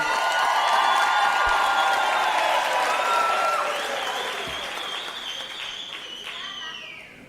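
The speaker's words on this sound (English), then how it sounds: "A round of applause again." Graduation ceremony audience in a large hall gives a warm round of applause with cheering and whoops, dense clapping that slowly fades over about seven seconds.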